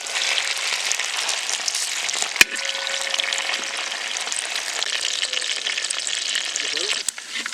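Country chicken fries in oil in a pan with a steady, dense sizzle throughout, broken by a couple of sharp utensil knocks as the pieces are stirred now and then.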